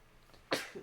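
One sudden, close sneeze bursts out after a quiet moment, sharp and breathy, trailing off quickly.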